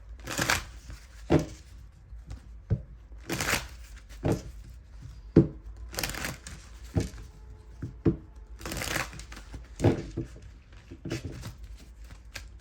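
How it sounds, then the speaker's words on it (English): Tarot cards are shuffled repeatedly in quick riffling bursts, each followed by brief pauses, close up with a few light taps and rustles. "Let me shuffle because too many cards came out."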